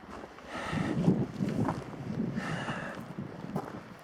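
Gusty wind at Windy Gap on a Mt Hawkins hiking trail buffets the microphone with a low, rough rumble that rises and falls over a few seconds.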